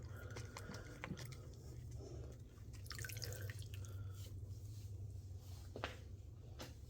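Water rinsing a vintage Barbie doll at a sink: a faint running stream with scattered drips and light splashes over a low steady hum.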